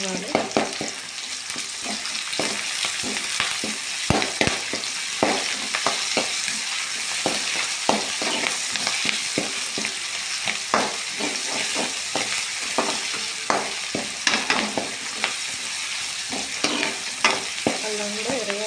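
Ginger and onions fry in a pan with a continuous loud sizzle and hiss, broken by frequent scraping stirs of a utensil against the pan.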